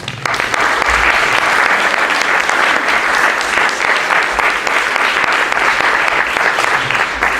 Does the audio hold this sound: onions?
no